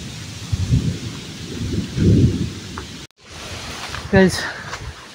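Low rolling rumbles of thunder with rain and rustling around them, and a voice briefly heard near the end.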